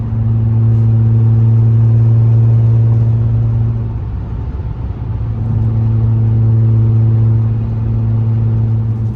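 A supercharged car engine drones loudly and steadily from inside the cabin, its deep rumble easing briefly at the midpoint before building back to the same heavy hum.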